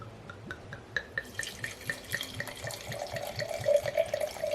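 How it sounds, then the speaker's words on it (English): Malbec wine poured into a glass up to a standard four-ounce measure: a thin liquid trickle runs steadily, with faint glassy clinks and a rising gurgle as the glass fills, close and fairly quiet with no talking. "let me show you the perfect pour"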